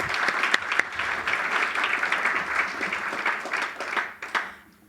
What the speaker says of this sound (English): Let's give a round of applause for Debbie.